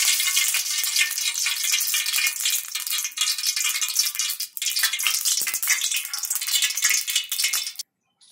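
Oil heating in a pan for a mutton curry, giving a steady, fairly loud crackling sizzle with light rattling and stirring throughout, breaking off abruptly near the end.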